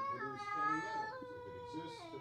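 A pet cat gives a drawn-out, plaintive meow with a wavering pitch before jumping up onto a surface, close and fairly quiet.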